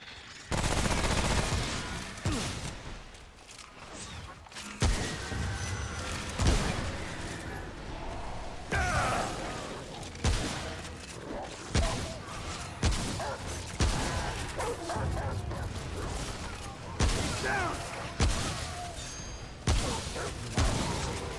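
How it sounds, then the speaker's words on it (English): SMG fire in Remnant: From the Ashes, with repeated bursts of rapid automatic shots in an uneven rhythm and brief gaps between volleys, set against a dark, droning game backdrop. "I was really happy when Pablito showed me how to grab this SMG, because damn, dude, it slaughters pretty well."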